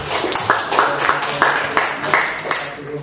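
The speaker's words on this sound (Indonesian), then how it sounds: "tepuk tangan semuanya" Students in a classroom clap in a patterned rhythm, with short bursts of claps repeating every half second or so, close and moderately loud.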